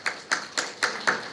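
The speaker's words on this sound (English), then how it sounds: "Let's do a clap there." A small audience claps in a slow, evenly spaced rhythm, about six distinct claps close together and fairly loud, with no talking.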